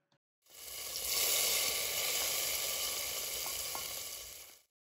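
Mustard seeds, dried red chillies and curry leaves hit hot oil in a tempering for sweet potato dappalam, a loud continuous sizzle with a few crackling pops that swells quickly and then cuts off.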